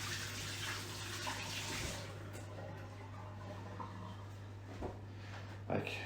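Oranges and lemons are rinsed under a running kitchen tap, giving a steady, close rush of water that continues throughout, with a low hum underneath and a voice faintly in the background.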